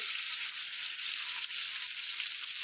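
Vegetables frying in a pan give a steady, close hiss of sizzling oil that carries through the whole stretch, with no clear stirring strokes standing out.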